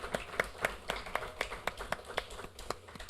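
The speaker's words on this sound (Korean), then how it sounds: "우리 하나님께 감사와 영광의 박수 올려드리겠습니다." A church congregation claps after a sermon, a quick, steady run of sharp hand claps at moderate distance, the individual slaps clearly separated and continuing without any talk.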